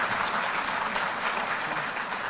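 Continuous applause from an audience at a government ceremony in Delhi, a dense, even wash of clapping throughout with no voices over it.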